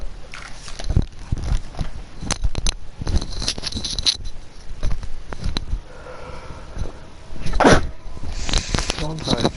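A single sharp sneeze during a Dark Souls 2 gaming session, standing out among clicks, chewing-like noises and light background sounds, with people talking nearby.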